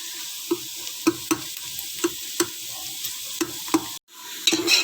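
Onions frying in a pot for mutton masala gravy, a constant sizzle punctuated by regular spoon strokes and scrapes roughly every half second, then a brief cut and a louder hiss.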